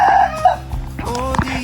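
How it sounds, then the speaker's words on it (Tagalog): Chickens wander a Philippine farm, giving a few short clucks and a brief crowing call over light background noise, with no one talking. "yung mga manok nagagala dito"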